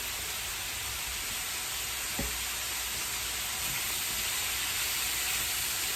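Onions frying on a home hibachi griddle give a steady, loud sizzle and hiss throughout, with one sharp clink near the middle.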